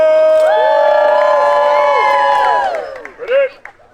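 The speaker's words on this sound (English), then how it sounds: "A cheer for the fighter!" An audience at a Florida Renaissance Festival Ottoman encampment cheers for a fighter, with several voices shouting and whooping together in long rising and falling calls that die down near the end.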